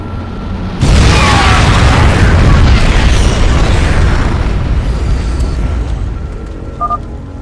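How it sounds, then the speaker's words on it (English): A nuclear missile detonates in StarCraft II, opening with a sudden loud boom that swells into a long, roaring rumble and slowly fades, with a few faint electronic beeps near the end. "Nuclear missile ready."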